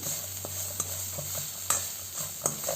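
Curry leaves fry in a pan for pulihora, a soft continuous sizzle close by, with a few sharp stirring clinks and scrapes against the pan; no speech.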